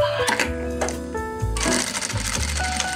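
Sewing machine stitching a fabric seam on a Christmas craft bread basket, rapid close rhythmic needle clatter that pauses briefly and then resumes more strongly.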